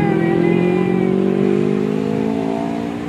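A motorcycle engine drones loudly nearby with a rising whine as it passes, its steady tone holding close before easing slightly at the end.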